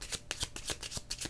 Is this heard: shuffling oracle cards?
yes